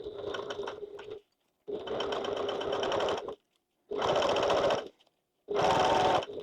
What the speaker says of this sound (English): I'm going to give a bit of pressure out sideways while I'm sewing this